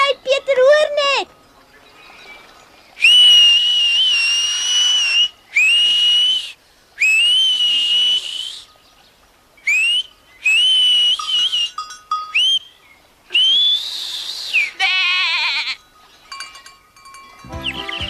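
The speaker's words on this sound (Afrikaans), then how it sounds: "Ek kan net so goed soos jy fluit" Human whistling in a pastoral mountain setting, a series of sustained high melodic whistles in separate bursts with short gaps, clear and fairly loud, with a voice briefly at the start and sheep or goats faintly bleating.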